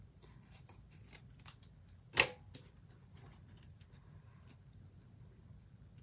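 Scissors snip through card stock while a greeting card is made, a single sharp, close cut standing out over quiet room noise with faint handling sounds around it.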